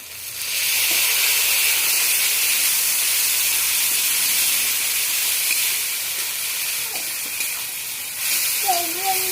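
A loud, sustained steamy hiss rises as a little water hits spice paste frying in a pan, holding steady for several seconds before a brief voice near the end.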